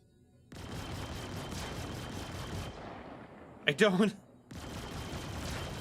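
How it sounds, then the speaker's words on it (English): Several ship cannons discharge together in the space game Star Citizen, heard as a dense, loud rattling volley that runs for a few seconds, stops briefly, then sharply resumes. A harsh, close crackling burst stands out in the pause. "only one gun is supposed to fire. But it's firing all of them."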